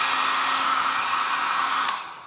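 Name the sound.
hair dryer blowing hot air on a pompom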